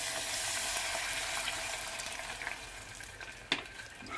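A fish sauce with lemon juice just added sizzles and fries steadily in a pan, a bright hiss close by with a single sharp clink near the end and no talking.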